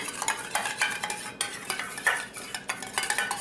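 A utensil stirs vinegar into a salad dressing for lettuce, tomato and cheese, giving quick rhythmic scraping clicks against a bowl, close and alone.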